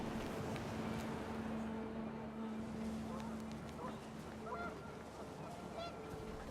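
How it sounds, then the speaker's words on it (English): Panicked geese honk amid rising wind in What Remains of Edith Finch, their cries scattered and fairly faint over a steady windy rush and low droning hum, with a voice speaking alongside. "The wind picked up, and panicked geese appeared and quickly went"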